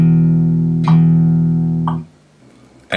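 Quarter notes in a blues shuffle lesson, sounded as sustained, evenly spaced tones with sharp attacks about once a second, followed by a short silence and a fresh attack at the end.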